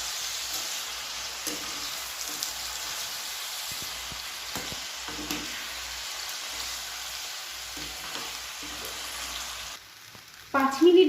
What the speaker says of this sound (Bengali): এবার সোয়াবিনটা আর চালগুলো ভালো করে মশলার সাথে একটু ভেজে নিতে হবে।